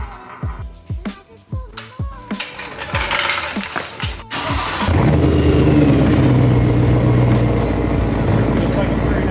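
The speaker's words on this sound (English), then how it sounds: "We're gonna throw the car on the ground and then start it up and see how it sounds" BMW E90 M3 V8 starting up, preceded by clicks and knocks, then the engine catches and settles into a loud, rumbling idle held steady to the end, with a voice heard early on.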